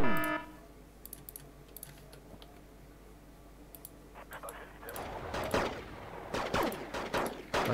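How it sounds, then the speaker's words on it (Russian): Gunfire in the video game Wargame: Red Dragon starts with a few sparse, scattered clicks and shots, then builds in the second half into dense, rapid bursts of fire. "Вы там стреляете?"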